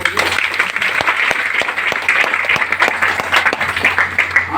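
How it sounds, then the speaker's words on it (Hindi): Audience members at a gathering clap for someone, a lively burst of applause with some distinct sharp hand claps standing out, and faint voices mixed in beneath the clapping. "बहुत अच्छा है, इनके लिए ताली होनी चाहिए।"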